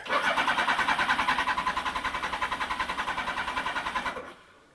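A Suzuki GSX1100 motorcycle engine cranks over with a fast, steady rhythmic churn for about four seconds, loud and close, then the starter stops and only a faint hum remains.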